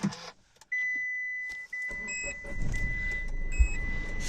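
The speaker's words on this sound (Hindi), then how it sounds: "गाड़ी को स्टार्ट कर लेते हैं पहले तो" A car engine started from the driver's seat inside the cabin: a steady chime and a few short beeps, then a low, rumbling engine that settles into a close, even idle.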